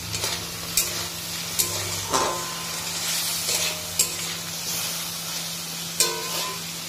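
A potato and pointed gourd spice paste fries in a pan with a steady sizzle, as a utensil scrapes and stirs it in repeated strokes about every second or so.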